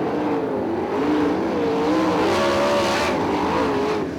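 Sprint cars racing on the dirt track at Crystal Motor Speedway, several engines roaring and revving together in a continuous loud drone that rises and falls in pitch as they circle.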